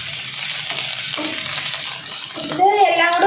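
Beetroot, carrot and green chilli sizzle and fry with onion in a pan while being stirred, a steady close crackle that brightens and grows busier near the end, with no talking.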